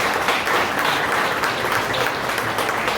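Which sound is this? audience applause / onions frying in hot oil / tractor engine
audience applause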